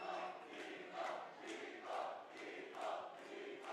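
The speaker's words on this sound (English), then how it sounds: "There's some Nico chants in the crowd if you guys can hear" Rhythmic crowd chanting at a Mortal Kombat 1 esports tournament top-eight stage, repeating pulses about once a second, faint and distant with a steady murmur underneath.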